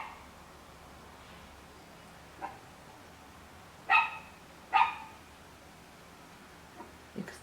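Two short bursts of puppies barking at a distance outside in a backyard, with a few fainter yips before and after, against a quiet background hiss.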